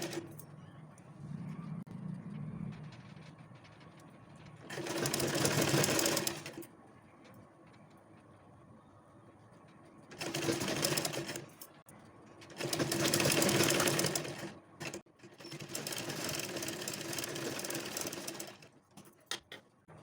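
A domestic sewing machine stitching piping onto a puff sleeve runs in several bursts, each a few seconds long, with quiet pauses between them. It sounds close and moderately loud, with no talking.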